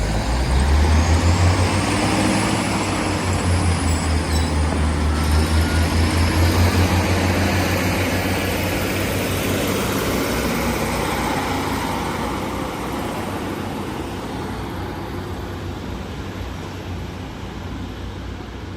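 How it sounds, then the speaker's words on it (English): A British Rail class 156 diesel train pulls out of the station bound for Manchester Oxford Road, a loud low engine drone and rumble near at first that steadily fades as it draws away, with broadband rail and wind noise throughout. "Train now departing in class 156 going to Manchester Oxford Road."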